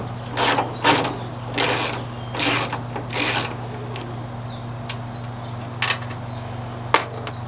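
A ratchet works the two 8mm taillight bolts on a 2013 Ford F-150, sounding as several short bursts of close clicking, with a few faint taps after.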